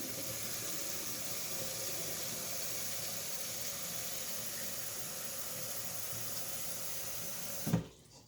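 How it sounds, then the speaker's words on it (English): Water pours steadily into a cooking pot for chitterlings, a constant close hiss that lasts several seconds and then stops abruptly with a small splash. "And I'm going to add some water."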